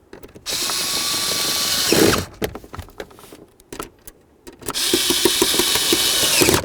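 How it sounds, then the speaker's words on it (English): Power tool whirring loudly in sustained bursts while driving and tightening screws on a 1994-2004 Chevy S-10 combination switch, with a quieter stretch of clicks and handling noise between the runs. "now that I have all my lower screws in, we're going to start tightening them up"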